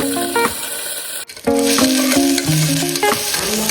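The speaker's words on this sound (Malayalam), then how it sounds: "അതിന് ശേഷം spices, then ginger garlic green chilli ഇടുന്നുണ്ട്." Spices, ginger, garlic and green chilli fry in ghee in a cooker for biriyani, a close steady sizzle with stirring, layered over sustained tonal notes.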